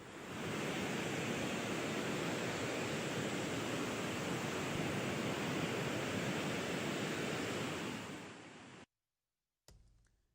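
Water released from a reservoir dam roars in a dense, continuous rush, loud and steady for about nine seconds before cutting out abruptly, then briefly returning.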